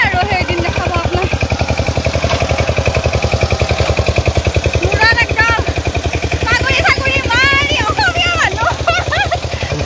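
A tractor engine chugs steadily while ploughing a rainy-season field, its loud rhythmic mechanical thrum continuous throughout, with a voice talking over it partway through.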